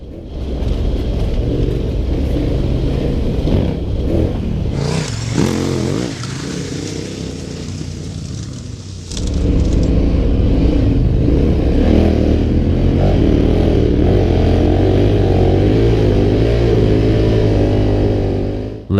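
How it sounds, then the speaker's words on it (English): A KTM 1190R adventure motorcycle rides down a beach. Its engine roars loudly and steadily under wind rush, dips briefly mid-run, then pulls hard again with rising revs. "Legging it down the beach is one of the coolest things you can do on a big adventure bike"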